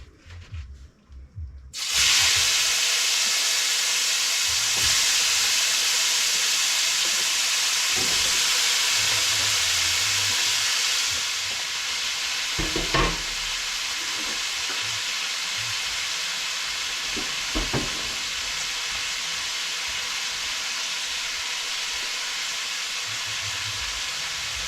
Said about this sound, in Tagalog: Ito na pagigisahan natin ng gulay.